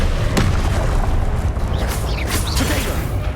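A Confringo blasting spell explodes in Hogwarts Legacy, a loud booming burst with a sharp crack near the start, followed by dense rumbling combat noise and a few whooshing magical sweeps that run through the whole stretch.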